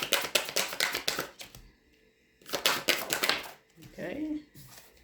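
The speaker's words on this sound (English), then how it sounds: "I'm going to pull two more cards for Libra." Tarot cards being shuffled and pulled from a deck during a reading, producing quick papery flicks and slaps in short bursts, close up and moderately loud, with a pause between the two bursts and a brief softer rustle at the end.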